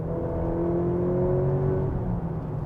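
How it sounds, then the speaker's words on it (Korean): Steady engine drone from a Maserati Grecale Modena SUV under way, a constant low hum with a faint rising whine, heard from inside with no talk. "이번 시간에는 마세라티 그레칼레 모데나와 함께 달려보도록 하겠습니다"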